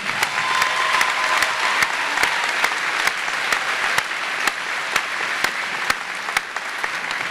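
Sustained applause from a graduation ceremony audience for the senior choir, steady and dense over a full seven seconds, with a few sharper individual claps standing out and no talk over it.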